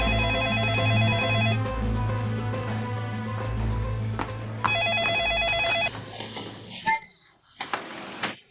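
A telephone rings with a repeating electronic ring pattern over a low hum and music, then cuts off abruptly, followed by brief movement sounds.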